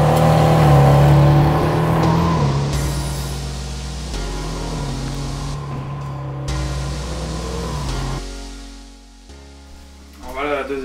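A miniature Porsche model car engine runs and revs loudly nearby, its pitch rising and falling as it accelerates, with people talking over it before it drops off near the end.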